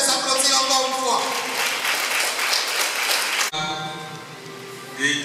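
An audience at a ceremony applauds in a dense, continuous wash of clapping that cuts off abruptly, after which a voice speaks over a quieter room.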